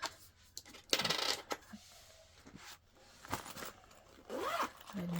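Coins clink and jingle as they are handled at home while tidying a family budget, a few bright metallic rattles and scrapes spaced between quieter moments, with faint rustling in between.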